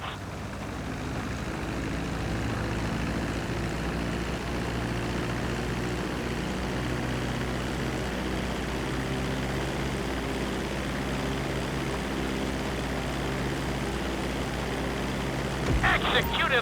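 A propeller airplane drones steadily and loudly throughout as it comes in to land on a runway in Grand Theft Auto V, the engine hum unbroken until a brief clatter at the end.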